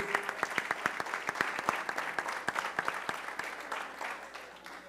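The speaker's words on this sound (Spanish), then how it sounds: "Le vamos a dar un aplauso de bienvenida" Audience at a national tourism forum in Mexico applauds to welcome a panelist, a sustained crowd clapping with sharp individual claps audible in a quick rhythm, moderately distant, gradually thinning toward the end.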